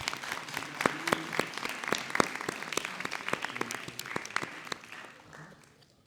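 Applause at a school short-film debate: a modest group claps in sparse, distinct hand strikes, fairly quiet and close, tapering off toward the end.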